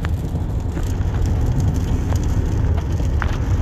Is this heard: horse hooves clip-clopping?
no